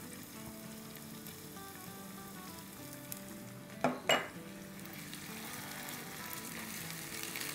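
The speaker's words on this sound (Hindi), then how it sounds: "तो अब इसमें डालेंगे हम 4 टेबलस्पून टोमेटो प्यूरी" Tomato puree hitting hot oil with frying onions, ginger and garlic gives a steady close sizzle throughout, broken by two sharp clinks of a utensil against the pan near the middle; a voice talks briefly over it.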